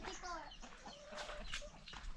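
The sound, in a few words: chickens and chicks clucking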